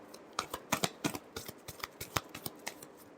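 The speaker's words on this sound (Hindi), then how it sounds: "Last shuffle." Tarot cards are shuffled by hand in a run of quick, crisp riffles and slaps, about a dozen close taps in uneven rhythm with no talk.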